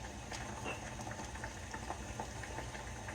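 Water boils steadily on a kitchen stove in a pot holding canning jars for pickled beets, giving a faint, continuous bubbling rumble with a few light clinks and no voices.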